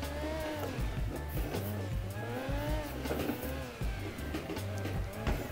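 A car drifting in a racing video game played on a Logitech G29 wheel, its engine droning steadily while tires squeal and skid in long wavering sweeps, continuous and loud throughout.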